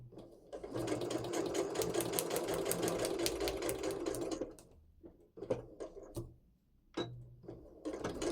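A sewing machine runs steadily for about four seconds, stitching a piece of a Christmas cracker table topper, then stops. A few quieter clicks and handling sounds follow.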